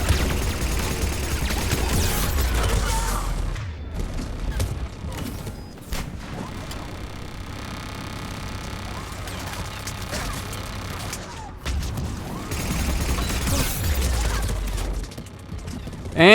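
Dense combat in the video game Mass Effect 3 on the planet Eden Prime, with sustained rapid turret fire and weapon noise thundering continuously over a booming low rumble, barely letting up through the whole stretch.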